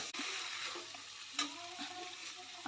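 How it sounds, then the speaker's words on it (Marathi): Drumstick pods (shevga) dropped into masala frying in a pan give a steady close sizzle, with a few soft knocks and stirring scrapes along the way. "आता हे शेवगा ह्यामध्ये घालते."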